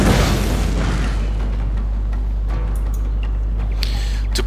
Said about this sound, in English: His general is under fire from fire rockets.